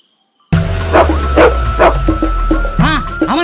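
A dog barks repeatedly at close range after a moment of silence, a run of sharp yips and bow-wows mixed with whimpering tones, fairly loud.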